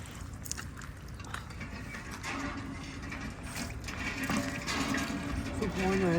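A hand pump in dry Rajasthan countryside is worked for water, giving rhythmic metallic creaks and clanks with gushing water, growing louder toward the end while voices talk nearby.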